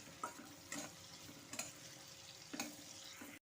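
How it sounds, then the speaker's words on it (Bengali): Chopped onion frying in oil for a Bengali rohu fish korma, a quiet steady sizzle broken by a few short louder bursts of stirring or scraping, with no voices. "এখন দিয়ে দিচ্ছি পেঁয়াজ কুচি। পেঁয়াজটাকে দিয়ে ভালো মতো করে তেলের মধ্যে একটু ভাজা ভাজা করে নেব।"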